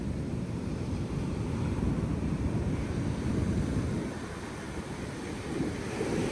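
Sea waves roll onto a beach in a steady, loud roar of surf, with wind buffeting throughout and a slight dip partway through.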